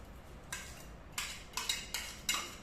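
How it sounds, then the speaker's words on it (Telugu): A spoon scrapes and taps against a metal pan or bowl while tempering is added into onion chutney, several short clinks and scrapes at an uneven pace, close and fairly quiet. "ఈ తాలింపు ఇందులో వేసేయాలి."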